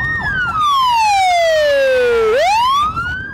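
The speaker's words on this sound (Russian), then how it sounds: "Звуковой сигнал сирены и работающий проблесковый маячок – это главные опознавательные знаки спецмашин" An emergency vehicle siren wails loud and close, one long tone sweeping slowly downward and then rising again, with a steady electronic whoop at the start and end.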